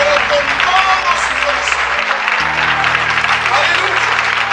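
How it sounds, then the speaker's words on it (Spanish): A church congregation applauds during a Spanish-language sermon, a steady loud wash of clapping with a sustained musical tone underneath and voices mixed in. "Un aplauso al Señor, pero con todo su corazón."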